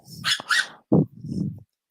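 A dog barks and whimpers in a few short, close bursts, loud and separated by brief pauses, with no other sound around it.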